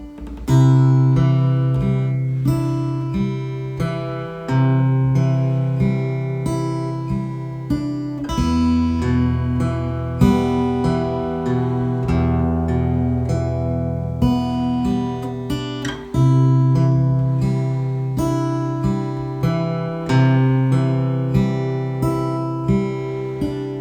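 A fingerstyle acoustic guitar arrangement, plucked chords with the melody woven in, played at a slow steady rocking pulse with ringing bass notes and sustained strings, close and clear with no talk.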